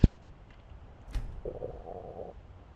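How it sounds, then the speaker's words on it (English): A character's stomach rumbles in the modded survival game Skyrim: a brief low gurgling growl after a faint click, quiet and alone. "Can hear our stomach rumbling as it demands a"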